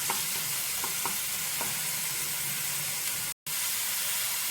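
Onion masala stir-frying in a pan, a steady loud hissing sizzle with a few light scrapes of a spoon, briefly cut to silence near the end before the sizzle resumes.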